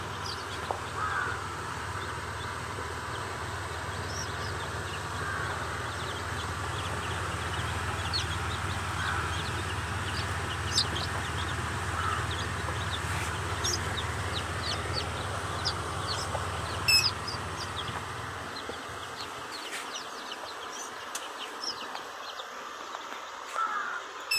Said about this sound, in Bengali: দেখেন আপনারা একই মেশিনে কোয়েল পাখি এবং দেশি মুরগির বাচ্চা